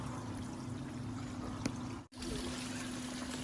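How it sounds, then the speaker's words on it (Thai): Water from a small waterfall streams and trickles steadily, a soft continuous flow with no voices over it. "ข้างล่างก็จะเป็น น้ำตกสายทาน เล็ก ๆ"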